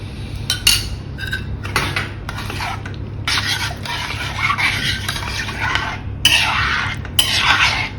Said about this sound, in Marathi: दही चांगलं फेटून घ्यायचंय